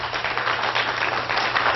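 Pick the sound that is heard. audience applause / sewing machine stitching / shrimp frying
audience applause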